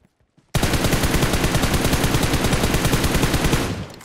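Automatic gunfire rattles in a shooter video game, one loud, rapid, unbroken burst of shots lasting about three seconds before it tails off.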